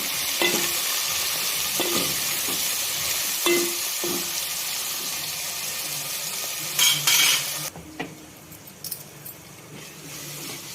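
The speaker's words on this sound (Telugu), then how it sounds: "టమాటాలు వేసి కొంచెం పసుపు వేసి ఒక 5 మినిట్స్ మగ్గనిద్దాం." Onions, tomatoes and turmeric cooking in a pan with steady frying sizzle, stirred with a spoon in repeated scraping strokes and clinks near the pan, continuing throughout.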